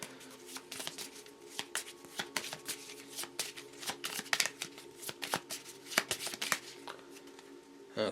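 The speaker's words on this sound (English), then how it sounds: "I'm still shuffling." Playing cards for the Marvel Champions card game are shuffled repeatedly, with rapid riffling bursts and crisp snaps recurring steadily at close range.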